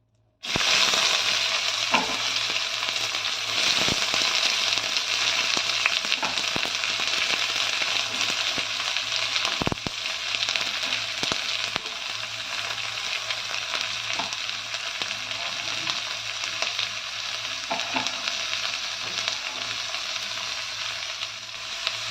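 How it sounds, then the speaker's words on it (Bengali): Sliced onions fry with dried red chilli in hot oil for tadka dal. A loud, continuous sizzle lasts throughout, broken now and then by sharp knocks and scrapes of stirring. "এবার পেঁয়াজটা লাল লাল হয়ে ভাজা ভাজা হয়ে গেছে"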